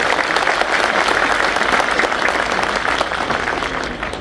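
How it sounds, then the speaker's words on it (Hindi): Sustained applause from a seated audience at a gathering honouring a chairman and a chief minister, loud and dense clapping filling the room with no pause throughout. "तो एक बार ताली चेयरमैन और चीफ मिनिस्टर दोनों के लिए भाई"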